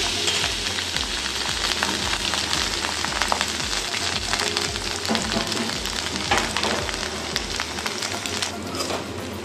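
Grated coconut sputters in hot oil alongside cashews and raisins. A loud, dense crackling sizzle runs continuously, with a low rhythmic rumble beneath and occasional stirring scrapes.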